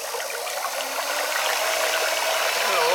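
A Greeco laboratory homogenizing mixer runs at full speed with too little water, giving a loud, steady whirring rush with a wet splashing hiss throughout.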